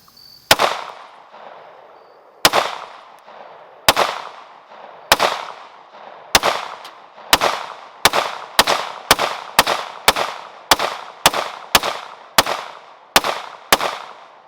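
A Sig Sauer Custom Works P320 AXG Scorpion pistol fires into a pumpkin outdoors: sharp, loud single shots, slow at first, then quickening to a steady rapid string of about eighteen cracks, each with a short echo tail.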